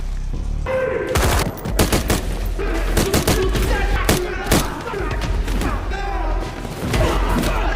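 Loud bursts of gunfire, rapid irregular shots and booming cracks over several seconds, close and chaotic, with shouting mixed in.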